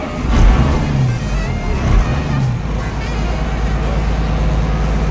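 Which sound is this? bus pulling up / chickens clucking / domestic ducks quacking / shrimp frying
bus pulling up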